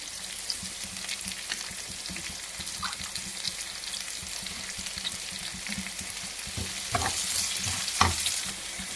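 Green chillies and spring onions frying in a pan with ginger-garlic paste for a ridge gourd curry: a soft, steady sizzle broken by occasional scraping stir strokes, close but fairly quiet, with no voices.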